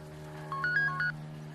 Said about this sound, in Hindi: भाई बहन का फोन है।